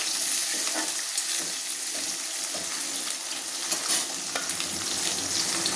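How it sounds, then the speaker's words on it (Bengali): Chopped onion and garlic cloves fry lightly in oil with cardamom, cinnamon and two bay leaves for a mutton pulao, giving a steady close sizzle with occasional stirring clinks and no voices. "পেঁয়াজ রসুনটা হালকা ভাজা হতে হতে আমি এই মশলাগুলো একটু বেটে নিই।"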